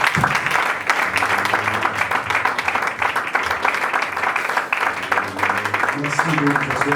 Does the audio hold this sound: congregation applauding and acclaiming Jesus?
yes